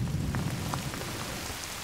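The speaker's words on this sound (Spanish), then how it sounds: "Aquí viene la lluvia." Rain beginning to pour outdoors on a hunting estate, a heavy constant hiss with a deep rumbling undertone suggesting thunder, loud and close with no voices.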